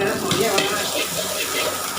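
Crispy pork being stirred and fried in a wok over a very high flame, a steady dense sizzle with scraping stir strokes running continuously and close.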